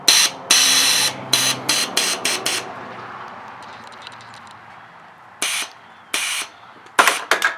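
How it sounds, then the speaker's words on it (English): A screwdriver clatters on the ground during a Harley touring rear air ride install, sharp metallic impacts bouncing in a quick burst and then a few more hits later, close and loud in an otherwise quiet shop. "Oh, dropped my screwdriver."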